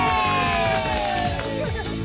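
A crowd of cartoon children cheering for the little Skittles, a loud, bright burst of shouting and whooping that fills the whole moment.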